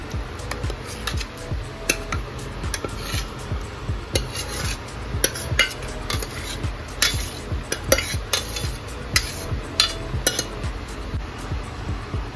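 Boiled vegetables being stirred into tomato puree for Mumbai-style pav bhaji, a spoon scraping and clinking steadily against the pan in a repeated rhythmic pattern, close and moderately loud, with no talking.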